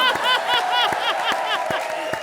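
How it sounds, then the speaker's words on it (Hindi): A comedy-show studio audience claps in a quick, uneven rhythm, mixed with cheering voices throughout. "ताली बजाओ।"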